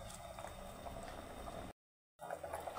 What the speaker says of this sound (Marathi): गरम पाणी घातल्यामुळे लगेच उकळी यायला सुरुवात झालेली आहे.